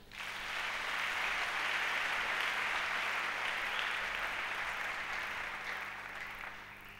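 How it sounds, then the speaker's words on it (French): Congregation applauding in church during a sermon, clapping that swells up quickly and holds as a steady dense wash before thinning gradually toward the end, with a low hum beneath. "Acclamons le Seigneur"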